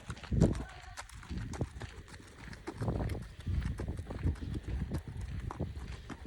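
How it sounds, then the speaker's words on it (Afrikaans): A horse moving on a farm while someone learns to ride, its hooves clip-clopping in an uneven rhythm at moderate distance, with people talking over it. "Kijk, Bob, hier is een perdje."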